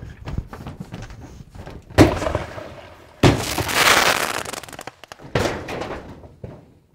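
Several loud bursts of game fireworks crack and boom in quick succession, with a long roaring burst in the middle and sharp pops around it.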